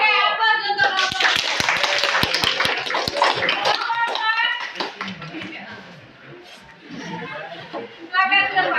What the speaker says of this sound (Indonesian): aplaus untuk kelompok.